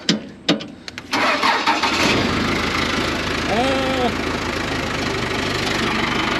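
Heavy equipment engine, with a backhoe on hand, cranking after a few clunks and catching into a loud, steady rumbling idle close by, with a voice briefly over it.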